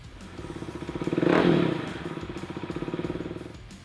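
Husqvarna Vitpilen 701 café racer's single-cylinder engine revving up, peaking into a loud rasp, then settling into a rapid, pulsing idle-like chug close by, with no talking.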